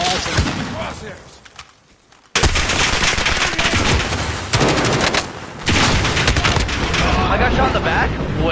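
Video game gunfire in an online shooter, loud and close, with rapid automatic bursts and fusillades that cut off sharply, pause briefly and resume in dense volleys.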